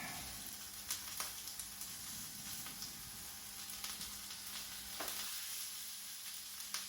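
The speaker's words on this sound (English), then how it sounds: "So they go in, just get them to soften a little bit." Thinly cut onions soften in a hot pan, a quiet steady sizzle with a few light spoon taps and scrapes, close but faint.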